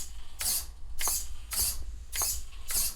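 On a lifted CEN Racing Ford F250 RC truck, the steering servo buzzes in five short, evenly spaced bursts as the suspension is pressed.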